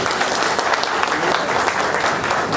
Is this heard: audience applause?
yes